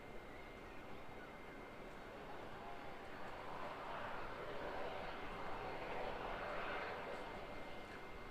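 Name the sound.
RNZAF C130 Hercules aircraft arriving at Auckland Airport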